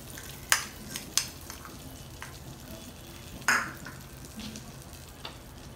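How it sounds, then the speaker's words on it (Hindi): Butter melts in a pan over a very low flame with a soft, steady sizzle, interrupted by several sharp clinks and scrapes of a utensil against the pan, close and fairly quiet. "जो बटर है उसको हम एकदम स्लो फ्लेम पे सारे बटर को इसमें"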